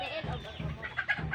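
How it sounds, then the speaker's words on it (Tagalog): Native chickens cluck in short, soft, repeated bursts outdoors around a rural home garden, fairly quiet and close. "Native chicken."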